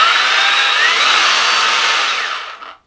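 A Milwaukee Hatchet 6-inch cordless pruning saw kit (2527-21) runs with a steady high motor-and-chain whine for over two seconds, then spins down to silence; loud and close, no talking.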